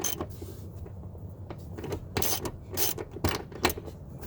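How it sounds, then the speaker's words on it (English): A ratchet tightens a rusty rear seat bolt in a Pontiac Grand Prix, giving quick clicking bursts close by in short uneven runs over a quiet background. "And then we're going to go the rest of the way with a ratchet"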